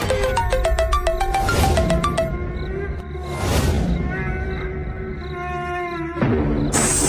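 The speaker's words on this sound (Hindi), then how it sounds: "लगता है मेरे प्यारे का फ़ोन बज रहा है" A mobile phone ringtone plays in a home, a repeating electronic melody that is clear and fairly loud, mixed with music and other sounds.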